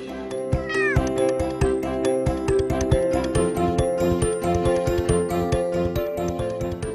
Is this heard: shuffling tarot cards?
no